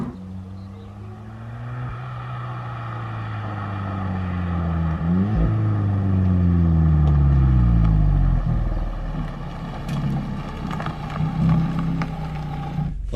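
A Volkswagen Golf R accelerates hard through several gear changes, with engine pitch climbing and dropping at each shift, loud and close from inside the car, followed by road rumble as the pace settles.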